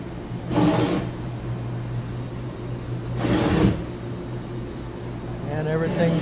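A 2013 Mazak HCN 4000-III horizontal machining center makes Z-axis rapid moves at full 100% speed: two sharp, short whooshing traverses about three seconds apart over a constant machine hum, with a brief voice near the end.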